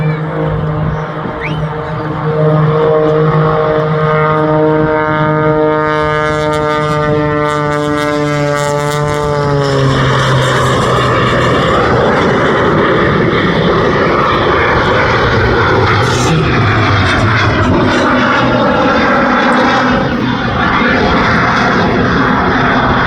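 Single-engine light aircraft performing aerobatic display flying at an air festival, a loud continuous engine drone with a falling, shifting pitch as it passes and manoeuvres, heard alone without talk.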